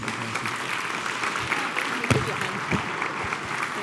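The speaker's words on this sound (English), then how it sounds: "Round of applause, please." Audience applause at an investor dinner: a steady wash of clapping from a room full of people, moderately loud and even, with a few sharper individual claps standing out.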